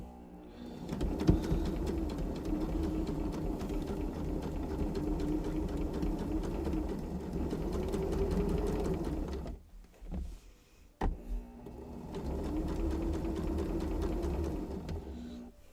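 A serger sewing machine stitches fabric in a steady, close, rapid whirring run. It stops briefly, gives a couple of short bursts, then resumes its continuous buzz.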